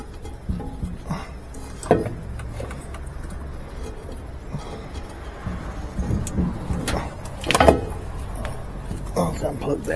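A GE washing machine motor turns one way and then the other, giving a low, steady rumble with occasional clunks while a person talks nearby.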